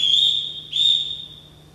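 A ship captain's whistle gives two shrill, steady blasts, the second starting just after the first ends and trailing off more quietly, heard alone without talk.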